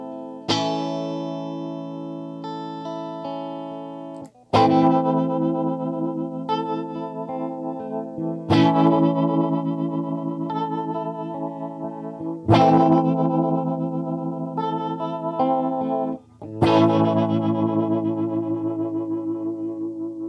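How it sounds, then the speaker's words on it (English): Electric guitar through a Fender Pinwheel rotary speaker pedal set to a slow ramp rate: five long strummed chords, each ringing out for about four seconds with a slowly swirling, wavering modulation, loud and close with no talking. "setting the ramp to a really slow rate, so it takes a while for the speaker to kick in"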